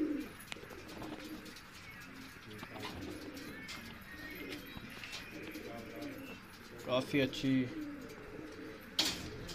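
Pigeons in a breeding setup coo softly in the background, low throaty calls rising in a short burst near the end, while someone talks over them.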